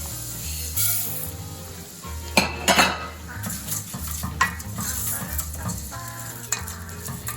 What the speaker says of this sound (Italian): A questo punto, quando inizia a dorare, buttiamo il riso.